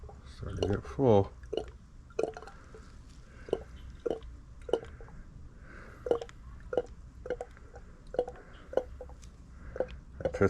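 Liquid pours into a motorcycle engine, heard as a series of soft gurgling drips and glugs at a roughly regular rhythm, close and fairly quiet, with a brief louder gurgle near the start.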